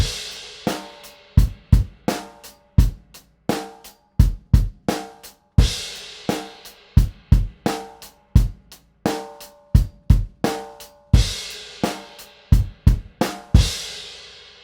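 Drum groove, a Grade 3 rock part with an early crash cymbal: loud, steady kick and snare hits under a bright crash that swells and rings out at regular points, with no voice over it.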